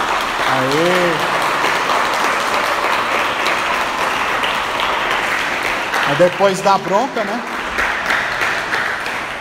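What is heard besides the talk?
church congregation applauding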